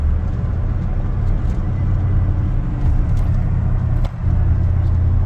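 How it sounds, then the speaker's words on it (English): A Chevrolet Squarebody pickup truck's engine rumbles steadily and close during an attempted 2-to-1 downshift, with a brief dip in loudness near the end. "I'll see if I can get a 2-to-1 downshift"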